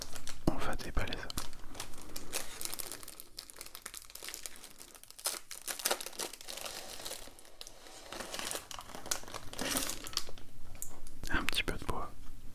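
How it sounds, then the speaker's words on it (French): Packaging for a small wooden house-building kit crinkles and rustles up close, crisp irregular bursts of crumpling and tearing, soft and intimate, with faint whispered speech between the handling. "Et on va déballer ça."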